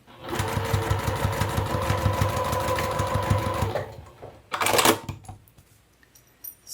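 A sewing machine stitches across the top of a fabric lanyard-style wallet, running steadily in a rapid mechanical rhythm for a few seconds, then stops; a brief rustle follows before it falls quiet.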